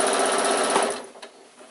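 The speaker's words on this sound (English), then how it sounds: "Bring the top down and you need to sew as close as you can" Close and loud, a sewing machine runs steadily for about a second while stitching tight along a fabric bag seam, then stops, leaving a few soft handling clicks.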